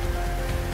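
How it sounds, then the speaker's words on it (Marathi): Rain beginning to fall in a village setting, a brief, steady broadband patter of drops on surfaces, fairly close and continuous for under a second. "पावसाला सुरुवात झालेली आहे."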